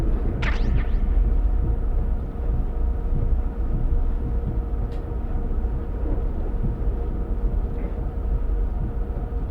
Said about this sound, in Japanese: あ、電車のね。